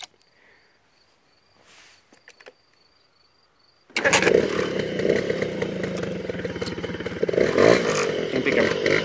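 After a few quiet clicks and handling noises, a motorcycle engine cranks and fires up abruptly, then runs loud and close with a rough, busy idle and a slight rev near the end.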